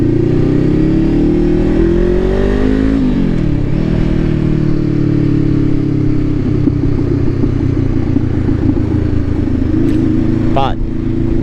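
A Nissan 370Z sports car engine drones loudly and close, its pitch rising and falling as it revs, then settles into a steady hum.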